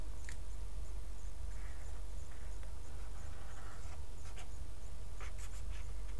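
A pen scratches across paper while a parabola graph is sketched, producing continuous close scraping strokes with a few brief taps, steady and moderately quiet, with no speech over it.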